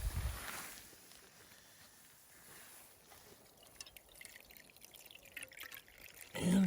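Water pours through a filter set over a pot, a soft trickling and splashing stream that swells and fades, with a brief clatter at the end.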